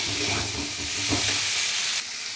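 Soybean chunks and potatoes being sautéed in a pan for a vegetarian curry, a steady, moderate sizzle with faint stirring scrapes, close and continuous before dropping slightly at the end.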